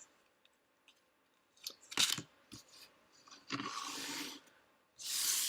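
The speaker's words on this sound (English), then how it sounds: "asking which cards should come forward as I'm shuffling" Tarot cards are shuffled by hand in a quiet room, with soft scattered riffles and rubbing bursts, a louder flurry around the middle and sustained papery swishing near the end.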